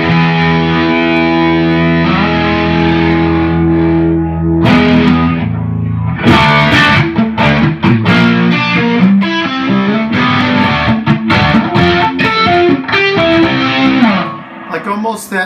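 Distorted electric guitar on a Granville Pink Bunkadoo through a 70s Phase 90 style phaser, sustained swirling chords giving way to busy, choppy strummed riffs, loud and continuous with no talk over it.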